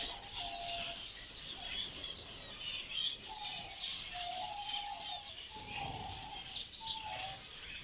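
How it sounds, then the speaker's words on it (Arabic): Songbirds chirping and twittering in an Iraqi aviary of canaries and goldfinches, a dense, fairly soft chorus of high trills with occasional lower whistled notes. "هذا القاطع الثالث او المحمية الثالثة، هاي خاصة بطيور المغردة"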